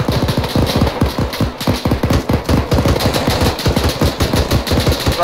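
Rapid bursts of automatic gunfire from a military shooter game, Arma 3, crackle in a fast, close, loud rhythm over a continuous engine drone.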